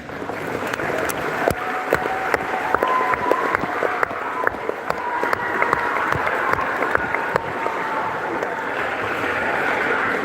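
An audience claps in a dense, steady patter for the full stretch, with a few sharper individual claps standing out and faint voices in the background.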